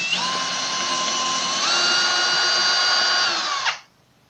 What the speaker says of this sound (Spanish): En este tope de tirro llegaremos al tope donde queremos llegar con nuestra perforación.